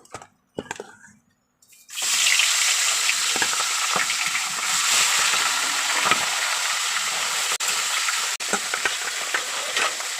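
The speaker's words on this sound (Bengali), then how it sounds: "তেলটা গরম হয়ে গেছে মাথাগুলো দিয়ে দেবো" Fish heads rubbed with turmeric and salt sizzle loudly in hot oil, a steady dense crackle that starts after a few quiet seconds of handling and holds close and strong to the end, with occasional sharper pops.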